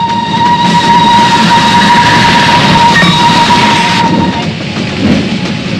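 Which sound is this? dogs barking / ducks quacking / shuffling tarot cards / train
train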